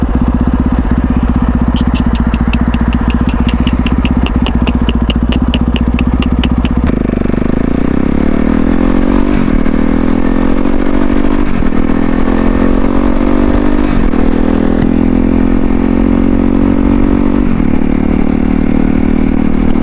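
A CSC RX4 single-cylinder 450 adventure motorcycle engine thrums loud and close, with a rapid ticking clatter early on, then rising pitch as it revs and pulls through several gear changes.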